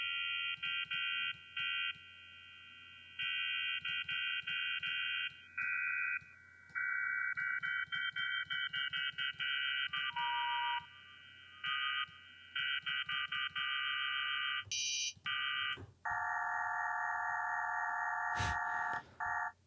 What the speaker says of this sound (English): I'm going to clear all the harmonics, randomize these, and I'm going to put in some high ones.